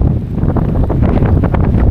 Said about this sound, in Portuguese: Tá ventando muito, muito,